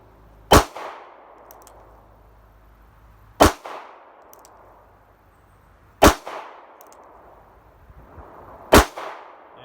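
Four loud, sharp revolver shots, a snub-nosed Smith & Wesson, Charter Arms or Ruger fired single action at an outdoor range, spaced evenly about three seconds apart, each with a short ringing tail and quiet between.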